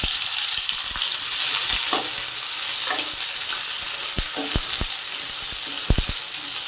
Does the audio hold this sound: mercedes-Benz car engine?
no